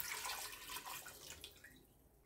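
Water poured into a pot over one kilo of chopped, cleaned suckling pig, a bright splashing stream that fades out over a couple of seconds.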